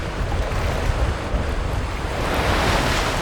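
Strong northeast monsoon gale over Longluan Lake on the Hengchuan Peninsula, a steady broadband roar of wind buffeting the microphone with a wash like surf, loud and unbroken throughout.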